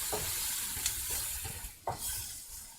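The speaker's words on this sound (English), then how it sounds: "Go ahead and let these onions caramelize a little bit." Onions fry and caramelize in a pan for fried rice, a soft steady sizzle close by, punctuated by a few sharp utensil taps and scrapes against the pan.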